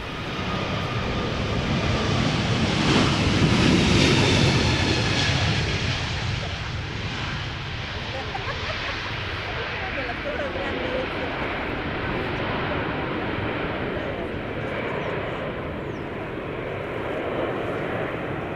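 An Airbus A321neo jet departs Schiphol's Polderbaan runway, its loud, broad engine roar swelling to a peak and then holding as a sustained rumble that slowly recedes into the distance.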